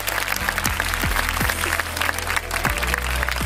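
Studio audience applause at a comedy show, a dense, continuous patter of clapping that stays steady and fairly loud throughout, with music playing underneath.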